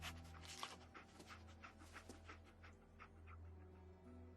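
Dogmeat, the dog companion in Fallout 4, panting quietly in quick rhythmic breaths over a faint low game background hum.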